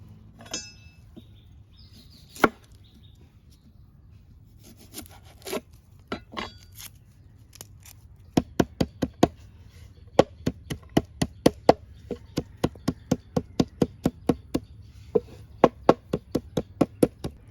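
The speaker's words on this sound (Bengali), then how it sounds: "পেঁয়াজটা কেটে থেতো করে নেব মানে রসটা নিয়ে নেব" Onion being chopped on a board for a hair remedy, a run of crisp knife knocks in a fairly quick, steady rhythm after a few scattered taps, close and clear over a low hum.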